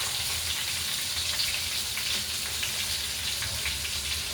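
Onion and garlic cooked with a spoonful of flour in a pot, a steady close bubbling and sizzling with a constant dense crackle and no pauses.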